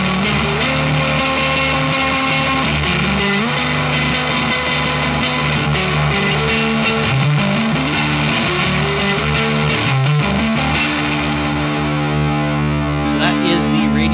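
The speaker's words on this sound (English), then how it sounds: "So that is the Radioshack Realistic Electronic Reverb and how I use it." Electric guitar played through a RadioShack Realistic Electronic Reverb unit, a steady, loud, distorted and heavily reverberant sustained passage with shifting chords and no pauses.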